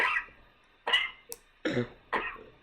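Four short, harsh coughs in quick succession, close and fairly loud, with brief quiet gaps between them.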